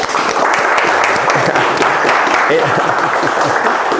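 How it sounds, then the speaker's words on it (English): Meetup audience applauding Anthony, a fix-and-flip real estate developer, with dense steady clapping and murmured voices underneath across the whole stretch. "let's give him a round of applause"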